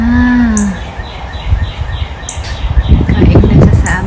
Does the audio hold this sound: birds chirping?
yes